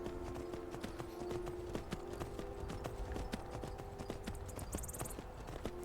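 Horse hooves clip-clop in a steady, rhythmic beat while riding in the video game Skyrim, fairly faint and continuous, with a low background hum and a short high tone near the end.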